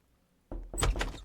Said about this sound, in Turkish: Her kapı çaldığında korkuyorum nedense.